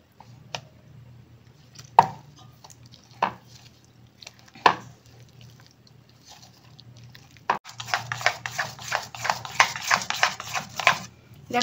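Paneer pakora batter is stirred with water in a bowl: a few sharp isolated taps at first, then about four seconds of steady, wet, busy scraping and slapping close by.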